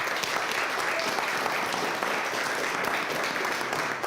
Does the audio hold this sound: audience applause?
yes